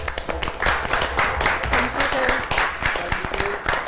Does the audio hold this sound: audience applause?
yes